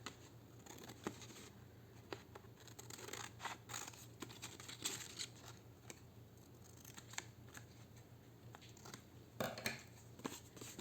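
Quiet, close snips of scissors cutting paper for a junk journal, with irregular crisp cuts and light rustling of sheets over a low steady background hum.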